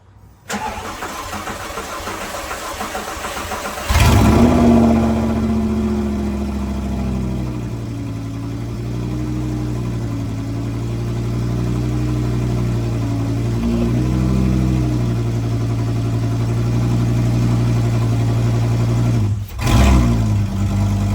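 An Audi R8 V10 engine cranks briefly, catches and starts, then settles into a loud, close, steady idle with several light revs before a short dip near the end, after carbon cleaning work.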